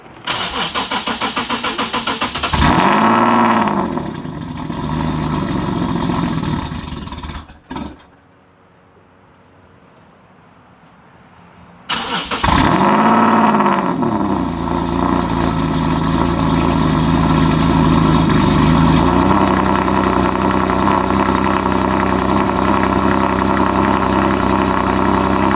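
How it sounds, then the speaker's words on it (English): A single-turbo Nissan 370Z Nismo running E85 cranks and fires up loudly nearby, cuts out briefly, then starts again and settles into a steady, throaty idle. "I'm gonna let you guys enjoy some nice, natural, single turbo E85 start from a 370Z Nismo"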